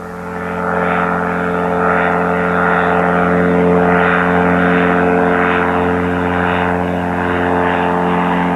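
A microlight aircraft flies overhead, its propeller engine giving a loud, steady drone that swells and fades slightly as it passes, with no voices.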